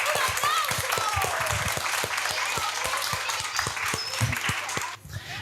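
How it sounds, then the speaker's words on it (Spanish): An audience applauds writer José Luis Flores at a school literary-week talk, steady, fairly close clapping that holds throughout before cutting off abruptly near the end, with faint voices mixed in. "queremos que le demos un fuerte aplauso a José Luis Flores."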